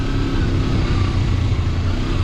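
A 2017 Kawasaki Versus X scooter engine running steadily and quietly, a low, even motor hum close by with no talking.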